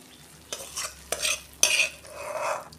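Cooked bitter gourd with bori is scraped out of a pan in three or four distinct bursts of spatula-on-metal scraping, close and fairly loud, with a faint sizzle between strokes.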